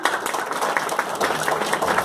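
A hall of engineering students at a motivational meet in Ranchi, Jharkhand, applauds with a dense, continuous patter of many hands that holds steady throughout.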